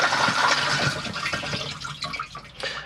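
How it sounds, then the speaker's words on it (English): A cassette toilet in a Hymer B534 motorhome flushes with a strong rush of water that tapers off over about three seconds, close and alone. "give it a flush"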